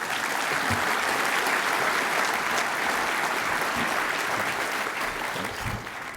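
A conference audience at a semiconductor industry talk applauds to welcome a speaker. The clapping is full and sustained from start to finish, tapering slightly at the end.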